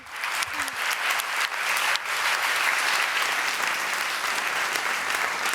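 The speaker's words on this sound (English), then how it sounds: "big round of applause" Sustained audience applause at a travel and tourism discussion event, dense and steady clapping from a large crowd filling the whole stretch at even loudness.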